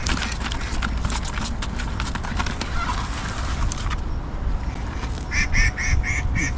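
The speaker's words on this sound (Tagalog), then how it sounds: "Tinatawanan ako ng ibon." A bird calls with a laughing, cackling cadence, heard as a short series of rhythmic, nasal hoots near the end, over steady loud outdoor background noise.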